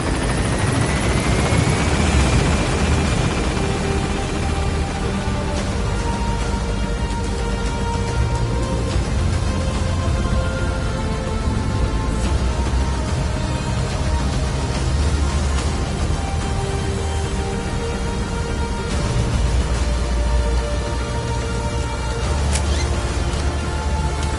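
Helicopter gaining altitude in the video game Metal Gear Solid V: The Phantom Pain, a loud continuous rotor drone and engine whine sustained throughout with a rising tone at the start.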